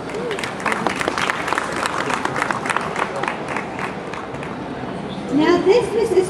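Audience applause for Honda's ASIMO humanoid robot at a motor show in Dubai, steady dense clapping for about five seconds before it thins out as a voice begins speaking over the tail.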